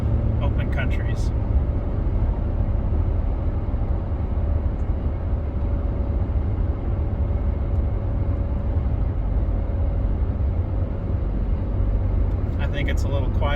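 Steady road noise from Toyo Open Country A/T III all-terrain tires on a Toyota Tacoma with Titan AK1 wheels, a constant low rumble and hum heard from inside the cab while driving, with no talking.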